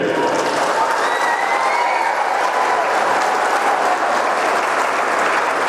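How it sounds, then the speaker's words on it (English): Crowd at a regional volleyball championship applauding the tournament teams, loud sustained applause with some cheering and a faint whistle-like tone running through it. "let's give a huge round of applause for all the teams that participated"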